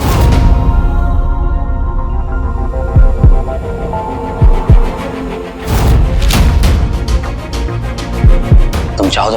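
A strong, deep throbbing heartbeat rumbles steadily and loudly, with booming low pulses under a dense hum and no voices.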